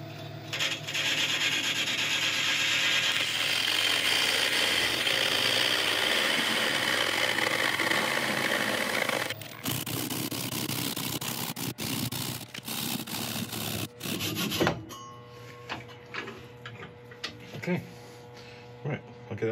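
Broadband rubbing rasp of abrasive against a spinning textured, ebonised oak vase on a wood lathe, steady and close for about nine seconds, then giving way to scattered knocks and handling noises.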